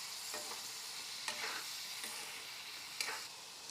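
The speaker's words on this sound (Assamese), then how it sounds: "আজি পনীৰখিনি ভাজি ল'ম।" Paneer frying in oil in a pan, giving a steady bright sizzle with a few soft scraping stirs, close and moderately quiet, with no talk.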